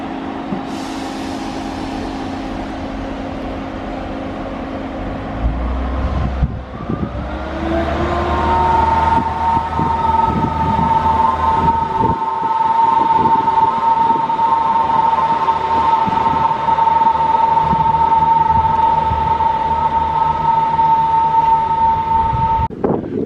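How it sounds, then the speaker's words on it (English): A passenger train bound for Penzance pulls out of a station in Devon: a brief hiss and clunk, then a rising diesel engine drone and rumble of wheels that stays loud and steady as it departs, with a sustained tonal whine and no voices. "the train which we were on, which is going to Penzance, just waiting for the green light, and now it's off."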